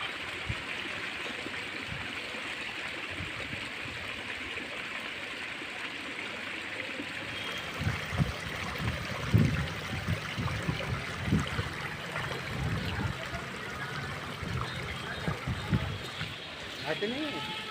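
The flooded Pankhas river in Balapur tehsil, Akola district, rushes along in a steady broadband roar. Louder irregular splashes and surges come in during the second half, with no talking.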